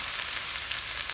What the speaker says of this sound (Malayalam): 1 ടേബിൾ സ്പൂണോ എണ്ണ ഒഴിച്ചിട്ട് സവാള ഒന്ന് വഴറ്റിയെടുക്കാം